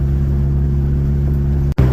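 A car engine with a catless exhaust idles with a deep, loud, droning exhaust rumble, steady throughout, broken by a brief dropout near the end.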